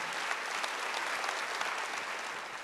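Church congregation at a Wednesday worship service clapping together, a continuous, even burst of applause filling the short stretch.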